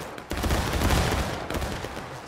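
A musket volley fired in the Civil War game War of Rights, heard as a dense, rolling crackle of many shots that swells and then fades over a couple of seconds.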